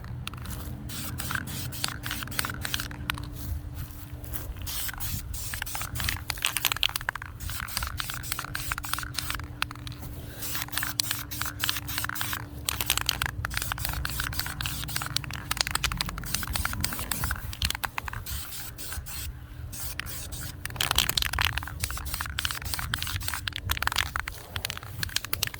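A rattle can sprays paint onto the spokes of a rare 2004 Acura TL 8.5-inch A-Spec wheel being refinished. A close, steady hiss runs almost continuously, with brief breaks between passes.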